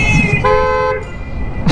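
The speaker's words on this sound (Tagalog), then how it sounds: "Kala mo ikaw lang may busina." A car horn honks twice in quick succession on a quiet Makati road on a Sunday, a near, sustained toot over the low rumble of the car cabin.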